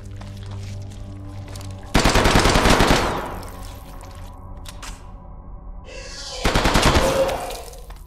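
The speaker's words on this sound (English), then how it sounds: "I'm gonna actually use him with the assault rifle" Assault rifle fire in a video game comes in two sharp, rapid automatic bursts about a second each, loud and close, with a quieter stretch of game ambience between them.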